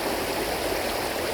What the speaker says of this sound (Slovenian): aktivirali z vodo, ki jaz verjamem, da se jo močno sliši zraven